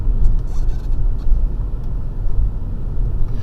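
A 2018 Toyota Prius heard while driving: a low, steady cabin rumble of road and tyre noise, close and continuous, with no voices.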